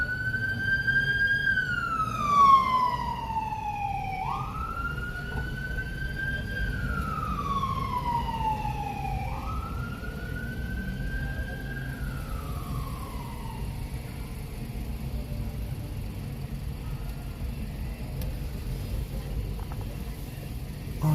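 Police car or ambulance siren wailing as it passes along a city boulevard, several long rising-and-falling sweeps that fade as it moves away, over steady traffic rumble with someone talking now and then.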